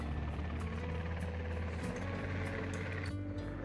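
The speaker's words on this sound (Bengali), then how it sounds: "আর এখানে হেলিকপ্টার দিয়ে টহল দিচ্ছে।" A patrol helicopter circles near a bridge and train station, its rotor and engine making a continuous low, throbbing drone that stays steady and fairly faint throughout.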